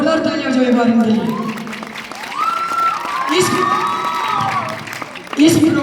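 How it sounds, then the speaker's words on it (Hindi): A crowd at a coaching-class farewell ceremony claps and cheers, with whoops and excited shouting riding over the applause, and a speaker's voice comes through near the start and end. "जोरदार तालियां जो एक बार इनके लिए"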